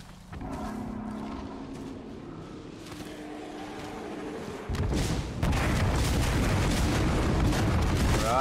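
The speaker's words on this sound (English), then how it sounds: "Calling the airstrike." Airstrike explosions in the Apex Legends battle royale start with a low rumble, then a series of heavy booms and crackling blasts build into a loud, sustained barrage.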